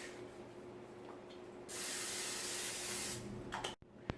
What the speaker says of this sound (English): you're going to take a 13x9 pan and you're going to spray it with nonstick